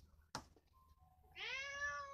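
A cat gives one clear, drawn-out meow close by after a sharp thump, rising and holding at moderate loudness in a quiet indoor room.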